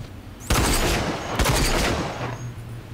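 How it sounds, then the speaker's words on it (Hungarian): Enemies in the shooter game R.A.G.E. firing special weapons: two loud, dense bursts of gunfire, each opening with a sharp crack and trailing into noisy rumble, with a low background hum between them. "Különleges fegyverrel lőnek már ezek."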